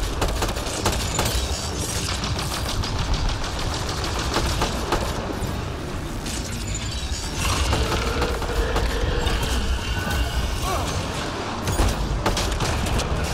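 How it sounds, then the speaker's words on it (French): Dense, continuous bursts of loud explosive blasts and crackling gunfire-like impacts from fire explosions in Mass Effect Andromeda, sustained throughout with no pauses. "Voilà, explosion de feu."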